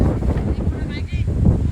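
Ocean waves breaking out in the middle of the water at Kiudkad, a broad wash of surf under heavy wind buffeting the microphone, with no talk.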